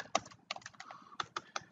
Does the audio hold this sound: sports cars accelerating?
no